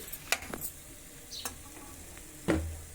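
Cauliflower fry is stirred in a pan, with a soft sizzle running underneath sharp spoon scrapes and clinks against the metal, closing on one louder stir.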